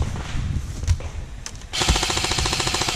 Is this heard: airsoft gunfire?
yes